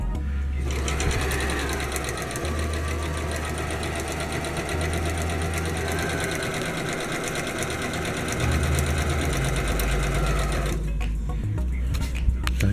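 A sewing machine runs steadily, stitching strips of old car cover fabric down the middle for a custom weather cover for a 1994 Honda GL1500 GoldWing Aspencade motorcycle; the continuous motor whir changes pace slightly and stops near the end.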